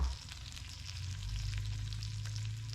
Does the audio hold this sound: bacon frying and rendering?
yes